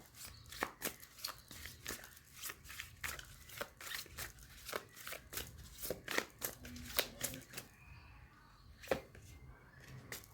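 A deck of tarot cards is shuffled close by, with a steady run of quick, crisp riffling snaps and flicks going on throughout.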